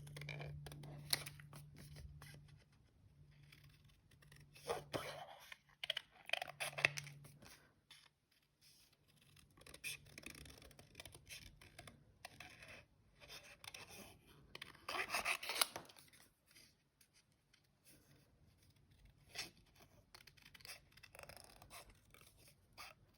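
Scissors cutting pieces of paper card at close range, in short irregular bursts of snipping and crisp paper rustle separated by quiet pauses, with a low hum in the background.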